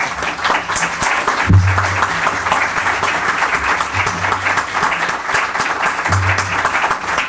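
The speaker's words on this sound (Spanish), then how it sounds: "pidiendo un aplauso para el profesor González Ferrín" Lecture hall audience applauding a professor at the end of a university talk, sustained dense clapping throughout, with a few low thumps and faint voices underneath.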